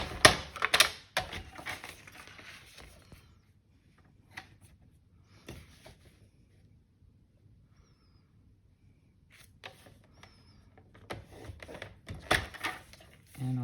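A paper trimmer's scoring blade slides diagonally across card stock in a few short scraping and clicking strokes, with near-silent gaps in between.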